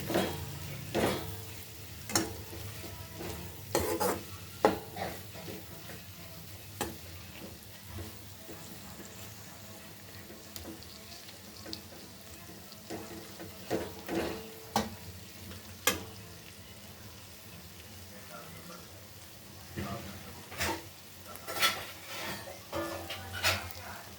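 Capsicum sabji with crushed peanuts being sautéed in a pan: a steady low sizzle of frying runs throughout, broken by repeated sharp scraping and stirring clatters of a spoon against the pan.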